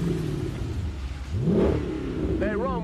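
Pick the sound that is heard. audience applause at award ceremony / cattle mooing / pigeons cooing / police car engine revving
police car engine revving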